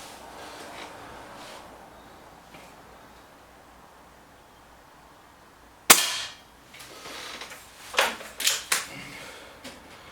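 Sharp crack of a BSA Lightning SE air rifle firing at a centre target, one loud shot after a quiet stretch followed by several quicker smaller clicks and snaps, close and without talk.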